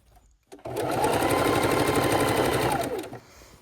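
A sewing machine stitches a quilt, starting up and running steadily and loudly at an even speed for about two and a half seconds before stopping.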